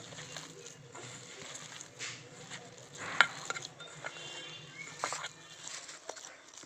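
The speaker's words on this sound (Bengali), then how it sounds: "সমস্ত উপকরণ দিয়ে মাখিয়ে নিলাম" Hands knead a dry dough of mixed ingredients, without any water, for a mock fish curry made without fish. It gives soft, faint squishing and pressing sounds in irregular strokes, with a few small clinks against a plate.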